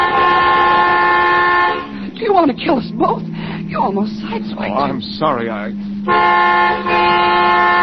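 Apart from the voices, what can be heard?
car horn honking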